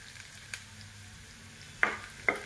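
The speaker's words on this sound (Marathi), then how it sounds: "हा लसूण आहे ताईंनो, किसून घेतला मी। हा थोडा ब्राऊन होऊ देते" Grated garlic frying in a pan for paneer butter masala, browning with a quiet, steady sizzle. Two sharp spoon scrapes or clinks stand out near the end.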